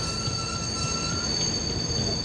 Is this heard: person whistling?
no